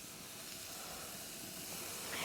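Hawaiian pork chops in a pineapple, soy and honey marinade sizzle on a grill, a loud, steady hiss that holds constant and swells slightly toward the end.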